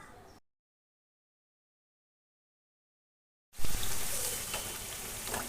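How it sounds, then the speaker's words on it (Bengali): Pitha dough made with flour and egg deep-frying in hot oil on a medium flame: near silence gives way to a loud, steady, crackling sizzle that fills the last two seconds, with no talk. "এবার চটপট করে গরম তেলে, অর্থাৎ ডুবো তেলে মিডিয়াম ফ্লেমে রেখে ভেজে নিতে হবে।"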